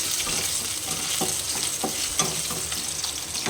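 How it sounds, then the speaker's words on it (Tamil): Garlic, dried red chillies and ginger frying in oil in a pan for tomato chutney, a dense, even sizzle with light scattered crackles and faint stirring, close up and with no talking. "அதில் வந்து பூண்டு காஞ்ச மிளகா இஞ்சி இதெல்லாம் போட்டு வதக்கிக்கலாம்"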